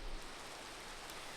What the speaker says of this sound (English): Raining. That's going to be great for the lag.